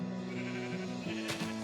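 Sheep on a video game sheep farm let out a drawn-out, wavering bleat, followed by a second shorter call, close and clear over a soft background hum.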